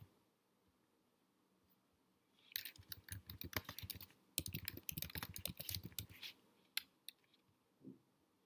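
Typing on a computer keyboard comes in two fast bursts of close, crisp key clicks with a short pause between them, then a few isolated taps in an otherwise quiet room.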